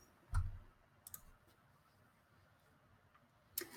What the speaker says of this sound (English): and I click Turn In